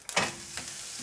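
Onions hit a hot pan with meat juices and set off a brief burst of sizzling, which settles into a steady hiss over about a second.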